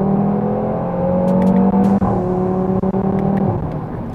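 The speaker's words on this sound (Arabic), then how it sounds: "الصوت الرائع اللي عم بيجي من العادم اللي هو طبعاً مزود بصمامات فعالة" A 2018 Audi TT RS five-cylinder engine booms through its exhaust with the active valves open, a loud, steady drone that swells and eases with revs, close by and with no voices over it.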